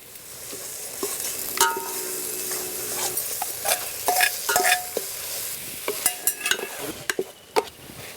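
Prawns cook in a spice paste in a pan, giving a steady close sizzle with scattered spoon scrapes and clinks against the metal, louder clicks clustering near the end, with no voices.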